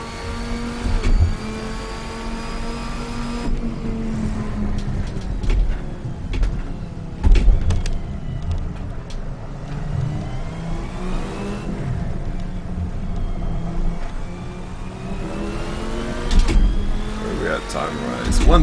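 A Studio GT mod race car in the Assetto Corsa video game revs and accelerates at Laguna Seca, its engine rising and falling through gear changes with rushing tire noise, while someone talks continuously over it.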